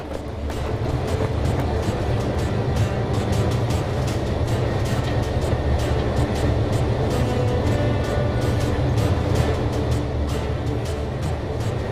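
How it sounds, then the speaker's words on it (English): A White Pass railway train traveling downhill out of Skagway, a steady loud rumble of wheels on rails with rhythmic clacks and rattling cars, continuous and close throughout. "the train is traveling downhill"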